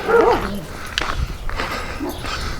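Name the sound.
dog barking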